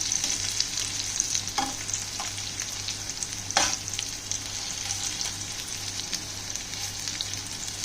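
Moringa leaf pakora fritters sizzle steadily in hot oil, a continuous close frying hiss broken by a few soft clicks of stirring and turning.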